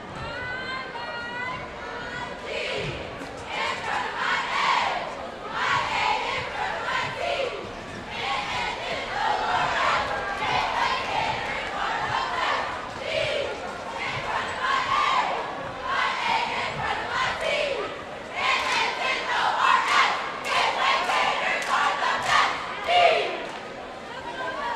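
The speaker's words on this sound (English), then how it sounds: "We'll turn it over to the cheer squad now as they'll get us ready for our fourth and potentially final frame" A cheer squad cheers at a high school boys' basketball game in the Gateway High School gym: loud, continuous chanting and shouting with crowd noise throughout, rising and falling in bursts.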